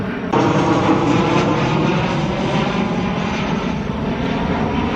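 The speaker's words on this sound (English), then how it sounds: "That's the 3rd jet I've seen fly over." A jet airplane passing overhead near an airport during a morning hike in a park, a steady loud broadband roar that rises sharply in the first moment and holds throughout, with no talk.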